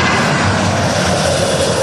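An aircraft on an airport runway gives a loud, broad engine roar that stays steady and close through the short stretch, with no talk over it.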